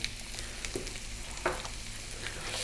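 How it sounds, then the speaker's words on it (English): Garlic and ginger frying in a pan, a steady, close sizzle with a few soft stirring scrapes, no voices. "let's just fry this garlic and ginger just for about 2 minutes"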